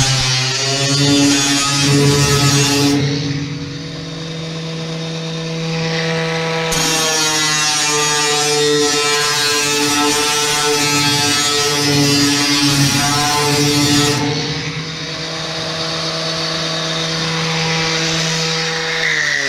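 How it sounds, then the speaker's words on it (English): A power grinder works over a rusty old steel cabinet, giving a sustained high, tonal whine that dips and rises as the disc bites into the metal, loud and close for nearly twenty seconds with no speech. "So what I'm gonna do now is just grind that just to neaten it up a little bit."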